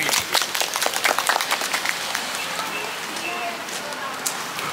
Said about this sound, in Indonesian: Tepuk tangan untuk Bang Rian.